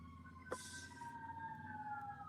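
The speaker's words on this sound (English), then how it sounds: "Look at the sirens." A siren wails with steady rising and falling tones, moderately loud, accompanied by a brief burst of broadband hiss partway through.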